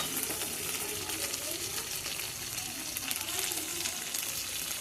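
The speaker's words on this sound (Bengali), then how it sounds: "তাহলে আলুটাও তাড়াতাড়ি ভাজা ভাজা হয়ে যাবে।" Potatoes fry in a pan over a high gas flame, producing a continuous, even sizzle at a moderate, fairly close level with no break.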